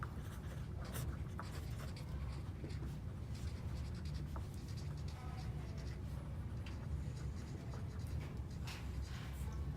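Pen writing on paper, filling in a check amount in words, with steady close scratching strokes over a low constant room hum; no voices.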